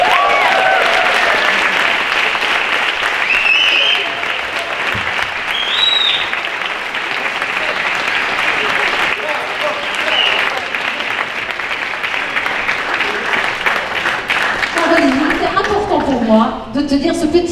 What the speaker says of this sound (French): Merci d'applaudir Caroline Guillot.